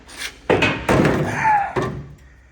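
An old rusty Holden car door is handled, producing several hollow metallic thunks and clunks with a brief ringing scrape, loud and close, with no talk.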